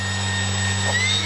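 Electric motor of a Flightline OV-10 Bronco RC plane whines steadily and loudly, a constant hum with high tonal whine close by.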